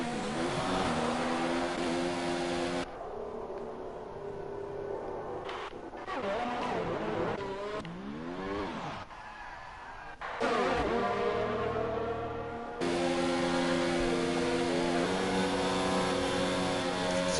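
Car engine note in F1 2019 at the United States Grand Prix, revving and sliding through donuts, with a sustained loud harmonic whine rising and falling in pitch and brief dips, steady throughout.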